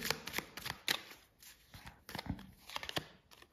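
Tarot cards being laid down to cover a card, with close, quiet papery slaps, slides and shuffling rustles in quick irregular bursts, no voice heard.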